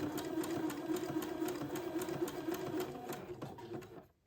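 A sewing machine stitches lace to fabric through an entredeux in a fast, even run of needle strokes over a low motor hum, then stops abruptly near the end.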